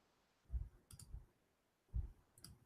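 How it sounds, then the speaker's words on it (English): Faint computer mouse clicks, a quiet pair of soft taps followed by a few lighter clicks, then another pair a moment later, heard alone in a quiet room. "I will click at Yusuf Ali"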